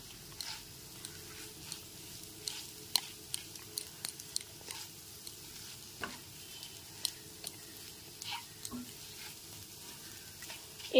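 An egg frying over low-to-medium gas gets broken up with a spatula, giving a soft, low sizzle with repeated light scrapes and taps against the pan.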